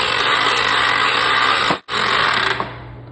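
A motorized lift raising a small engine machine in a workshop, a loud steady electric-motor whine that briefly cuts out and then resumes before tapering off.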